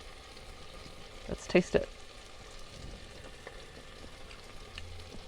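Hatch green chile frying in a pan inside a van, a faint, low sizzle with a couple of sharp clatters near the start, and a voice speaking briefly.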